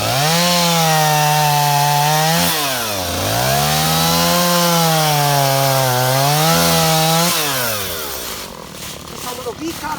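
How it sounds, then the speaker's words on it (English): A chainsaw cuts down a tree in a loud, steady whine. Its pitch dips twice as the bar bogs in the wood, then it fades to scattered crackling as the tree falls. "This one we're going to cut down with a chainsaw because it goes a lot faster."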